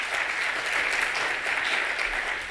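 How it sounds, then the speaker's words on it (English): Audience at an industry summit clapping, a close, continuous burst of mixed handclaps that holds steady for a couple of seconds with no voices over it. "Please give him a clap."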